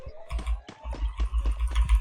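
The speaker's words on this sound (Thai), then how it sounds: "เสียงเหมือนกดคีย์บอร์ดเลย" Quick, irregular clicking taps like keys being pressed on a keyboard, a sound within a video game, close by, over a low rumbling hum.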